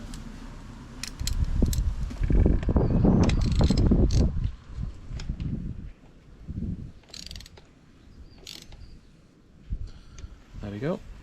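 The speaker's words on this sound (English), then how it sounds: "we'll put the socket on and we'll nip it right up" Socket wrench snugging a spark plug into a Honda BF 75–100 outboard engine: close metallic ratcheting clicks and clunks, with someone talking over parts of it and a few sharp knocks near the end.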